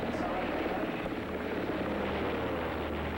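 Aircraft engines drone in a steady, unbroken roar on an old analog television broadcast, a continuous low hum with a faint rising whine partway through.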